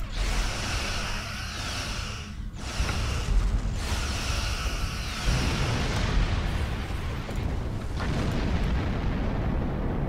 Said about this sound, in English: light tractor beam and disruptor cannon. Well, I'll just blast these